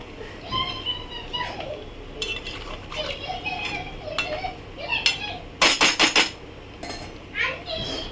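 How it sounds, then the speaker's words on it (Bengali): Potatoes in a little water in a pot for chicken kosha are stirred by hand, with scraping and clinking of a spoon against the pot, a few sharp metallic knocks midway, and children's voices chattering around it. "জল দিয়ে একটু নেড়ে দেবো হালকা করে"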